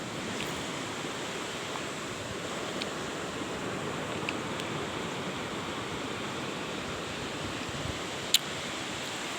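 Waves washing steadily onto Busung beach in Simeulue, a constant broad hiss of surf with no distinct breaks, and one brief faint click near the end.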